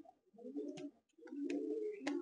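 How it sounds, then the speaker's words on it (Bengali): A restless pigeon held in the hand at a loft in South 24 Parganas coos in two close, soft bursts separated by a brief pause, with no talk. "এতটা চঞ্চল পায়রা তো, মানে হাতে থাকতে চাইছে না।"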